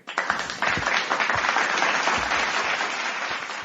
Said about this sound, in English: Let me give my Stacey Bug a clap too